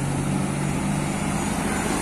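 Engine noise from a passing Mitra Rahayu tour bus near a busy Galendo 2 parking area in Ciamis, a close, steady, humming drone with no talk.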